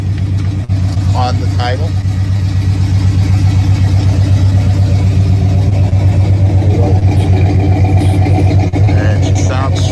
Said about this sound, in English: And she sounds sweet. Factory headers, factory Ram Air, W30 package.